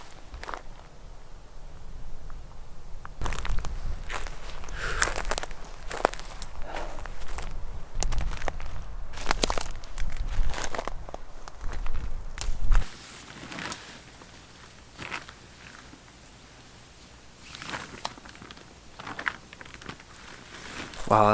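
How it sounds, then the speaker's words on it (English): Footsteps crunch and scuff over loose rock and gravel while walking through a steep desert canyon, irregular and close, loudest in the first half before softening into quieter, sparser steps. "gonna walk over there through this canyon"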